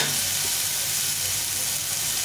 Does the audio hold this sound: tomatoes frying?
yes